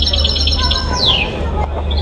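Birds chirp outdoors in a quick series of high tweets, with one clear descending call in the middle, heard over a low background rumble.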